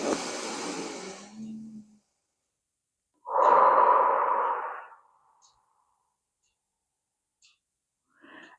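A man demonstrates deep breathing to calm anxiety. One close, airy breath is followed after a pause by a long, slow, audible exhale lasting a couple of seconds, in otherwise near silence.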